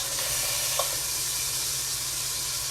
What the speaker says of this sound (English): I want to get, like I said, all 6 sides seared